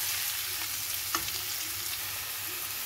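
Raw mango pieces with turmeric and salt sauté in a pan for a pickle, giving a steady, close frying hiss throughout with faint occasional stirring clicks and no talking.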